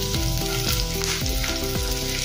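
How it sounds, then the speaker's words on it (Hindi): Onion with green and dried red chillies frying in hot oil, a close, steady sizzle broken by repeated stirring scrapes in the pan. "अभी अच्छे से तलकर तैयार हो गए प्याज, हरी मिर्च और लाल मिर्च।"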